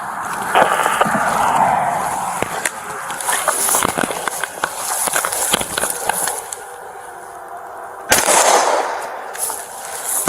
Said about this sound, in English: They're inside actively shooting.